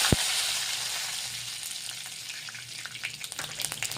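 Cumin, mustard seeds and curry leaves sizzle in a spoonful of hot oil, a close, steady hiss with faint crackles and pops toward the end.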